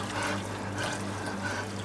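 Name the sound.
tap running cold water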